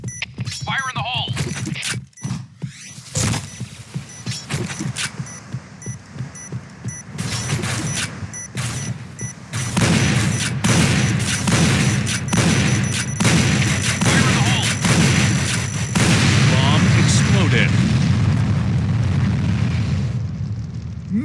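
Grenade blasts and gunfire ring out in the Point Blank shooter game during a hospital map round, a dense run of loud booms and sharp pops over steady rumbling background, with voices calling out briefly among the bursts.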